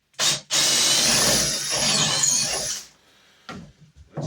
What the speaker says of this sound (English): actually drill